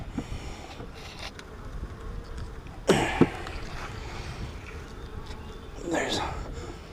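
A steady buzzing from many honeybees at an open hive during an inspection hums throughout, with a few louder bursts and faint handling noises nearby.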